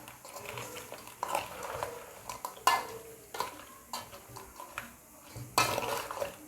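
Crab is stirred with spices and turmeric in a metal pot, giving soft scraping and clinking spoon strokes in an irregular rhythm. The strokes are close and fairly quiet, with no talking over them.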